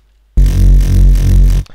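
A Reese bass synthesizer plays a single thick, detuned low note for about a second and a quarter, its phasing beats giving a churning, growling wobble, loud and alone before it cuts off.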